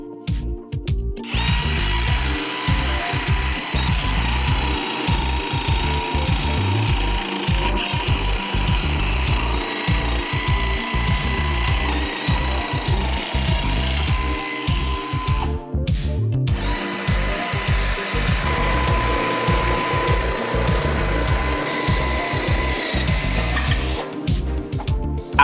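A Ridgid jigsaw cuts through wood with a loud, steady buzzing drone that runs nearly continuously, broken by one short pause midway before the cutting resumes.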